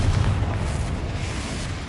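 A Confringo spell explodes in Hogwarts Legacy, a dense, rumbling blast with a booming low end that holds steady for about two seconds.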